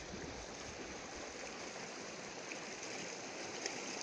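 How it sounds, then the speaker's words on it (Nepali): A small stream flowing through the open meadows of Ramaroshan in Achham, Nepal, a dense steady rushing of water, close and constant with no other sounds. "बिच बिचमा एउटा खोला जस्तो पानी बगिरहेको छ"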